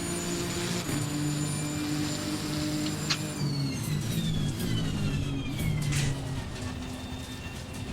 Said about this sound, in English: There's a bunch of cars here fighting.